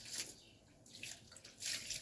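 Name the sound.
water being splashed onto bathroom walls during masonry work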